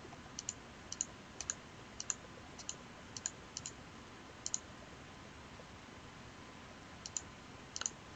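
Faint, crisp computer mouse clicks at a desk, single and double taps scattered irregularly over quiet room hiss, with no talking.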